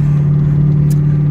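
A car engine drones loudly from inside the cabin while driving, a steady low hum that holds without clear rises in pitch over a brief moment.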